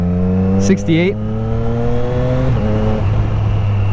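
A 2024 Triumph Street Triple RS motorcycle engine and exhaust running near and steady, a low droning hum with a brief pitch rise, while a rider talks over it.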